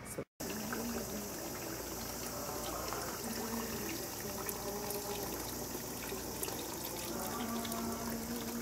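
Steady running water used for brewing sake pours and splashes continuously at the Gekkeikan Sake Museum in Kyoto, fairly close, with faint background murmur.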